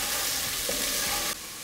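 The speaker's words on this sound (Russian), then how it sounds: "Теперь все вместе обжариваем минуты 2-3." Onion and carrot sizzle steadily in an oiled pan while being stirred, a loud, dense frying hiss close by that drops in level near the end.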